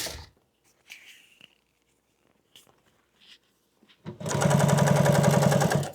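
A sewing machine stitches a welt-style boat cushion in an upholstery shop, starting after a stretch of quiet handling noises and running steadily and loudly for about two seconds to the end.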